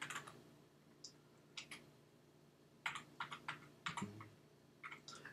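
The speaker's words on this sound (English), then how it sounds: "So I'm going to type out that example." Quick bursts of computer keyboard typing as a registry query is entered, crisp clicks in uneven clusters with short pauses, close and fairly quiet with no talking.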